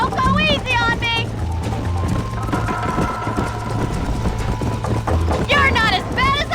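Horses gallop in the Western video game Red Dead Redemption, a loud continuous drumming of hooves beneath a driving musical score, with people speaking at the start and near the end.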